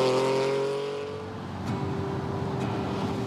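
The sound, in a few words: Lamborghini Countach engine sound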